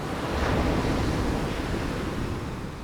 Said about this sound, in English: on the exhale, the waves retreat